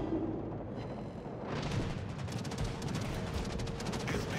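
Warship guns firing in World of Warships, a loud continuous barrage of rapid booming shots with rumbling naval battle noise underneath.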